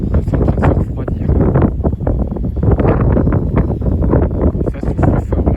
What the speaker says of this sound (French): Ça souffle fort là. Il y a de la vent.